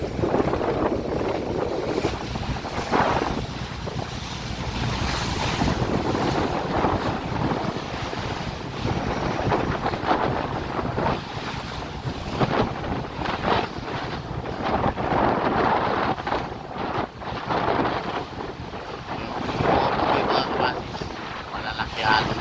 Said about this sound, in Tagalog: Malalaki alon yan.